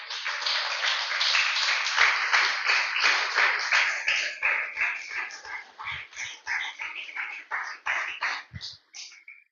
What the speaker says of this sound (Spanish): Déselo fuerte el aplauso